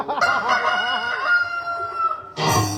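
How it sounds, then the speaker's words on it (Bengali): A rooster crows one long, wavering call from fairly close, and a second crow bursts in loudly just at the end. "মোরগের আওয়াজ কি তোমার কানে যাচ্ছে না?"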